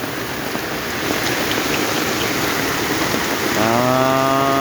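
Heavy rain in Savannakhet falls as a dense, steady hiss close by, joined near the end by a rising, harmonic mechanical whine over the downpour.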